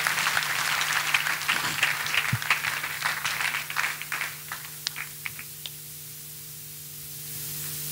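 A church congregation clapping during a testimony service, dense applause that thins into scattered individual claps and then stops, leaving a low electrical hum.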